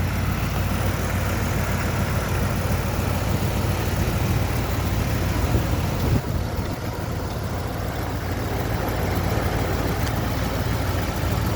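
A 1992 Dodge W250 pickup with a 360 LA V8 idles steadily after a cold start, a continuous low rumble close by with a brief bump midway and no talking.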